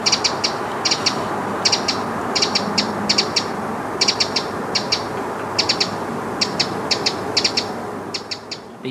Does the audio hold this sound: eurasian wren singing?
yes